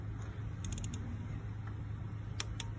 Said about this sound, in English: the click tells me it's done.